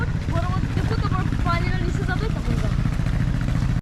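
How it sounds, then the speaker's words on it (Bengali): A boat motoring through a canal beneath a raised lifting bridge in Asikkala, Finland, its steady mid-range engine drone continuous and fairly close, with a person talking over it throughout. "এখন ব্রিজের এদিক দিয়ে বোটটা বেরিয়ে যাচ্ছে"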